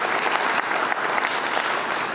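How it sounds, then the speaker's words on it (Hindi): Brief burst of crowd applause at a political rally with the Chief Minister in Kesli, dense clapping close by that stays steady and energetic for a couple of seconds. "जोरदार ताली बजाओ भाई"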